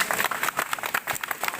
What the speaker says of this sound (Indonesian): Tepuk tangan buat Ahmad